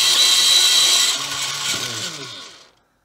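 Riyo electric pencil sharpener grinding a pencil, a loud close whirring buzz for about two and a half seconds that eases slightly midway before the motor cuts off into silence.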